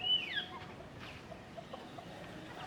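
Hen clucking while laying an egg, faint and somewhat distant, giving a few short squawky clucks over a quiet outdoor background.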